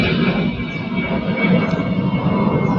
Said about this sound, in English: It's an airplane.